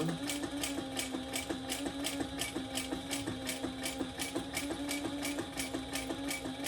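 A sewing machine bastes along the sides of a quilt, running in a steady, rapid, evenly pulsing stitch rhythm at close range, continuous and alone throughout.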